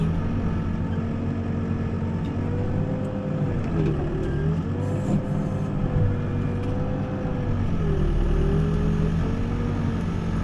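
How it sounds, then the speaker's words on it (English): Engine of a mini skid steer running at a steady idle outdoors at a footing dig, a continuous loud low drone with slight pitch wavers, near and alone without talking. "Got my little bitty mini skid steer out here."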